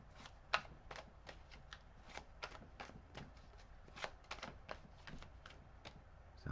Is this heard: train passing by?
no